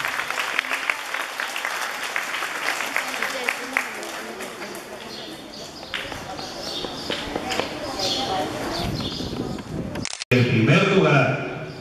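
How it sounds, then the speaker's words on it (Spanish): Applause from an audience at a school diploma ceremony fills the whole span, steady and fairly loud under spoken announcements, with a brief dropout near the end before a louder burst of clapping. "Demos un fuerte aplauso a Corina."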